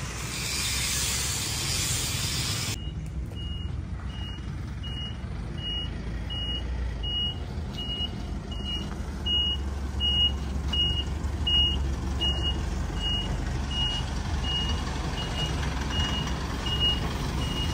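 Truck reversing beeps from a vehicle backing into a narrow alley, a steady series of evenly spaced high beeps over a low engine rumble and hiss, fairly close and continuing throughout after a burst of broadband noise at the start.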